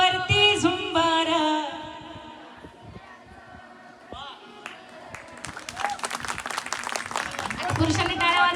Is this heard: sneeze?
no